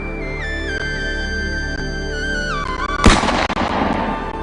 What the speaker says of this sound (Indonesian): terdengar suara tembakan di kota Madiun